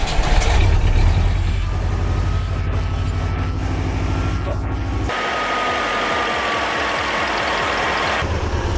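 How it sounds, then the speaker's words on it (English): An air-cooled V4 engine idles steadily at minus 10 degrees Celsius, a loud, close, continuous low rumble with an even knocking pulse and a brief shift in tone midway. "the engine hasn't even noticed that it is 10 degrees below zero and started right up"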